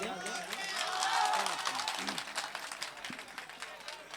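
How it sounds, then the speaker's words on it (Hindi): Audience at an Urdu poetry mushaira in Barabanki clapping, a burst of applause that swells early and then thins into scattered claps, with voices murmuring beneath. "एडवांस में तालियां बजा दें।"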